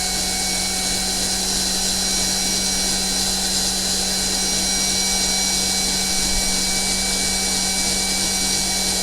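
An electric drill bores out rivets on a Corgi die-cast toy car, giving a steady continuous high whine that stays loud and close without a break.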